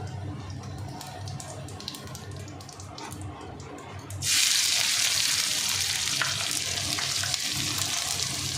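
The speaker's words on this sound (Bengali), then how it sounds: "দেখো গোটা গরম মশলা আর জিরে ফোড়নে দিচ্ছি আর এখানে রয়েছে তেজপাতা" Whole garam masala, cumin seeds and bay leaf hit hot oil, and a loud, sudden hissing sizzle bursts in about halfway through, continuing strongly after quieter kitchen background noise.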